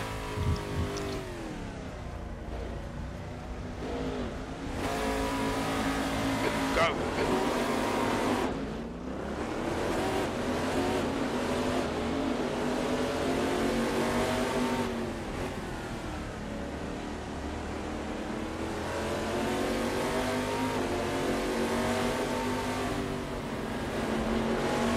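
Oreca FLM09 race car engine droning and revving continuously in sim racing at Sentul Circuit, a loud sustained tone with shifts in pitch and brief dips, no talking.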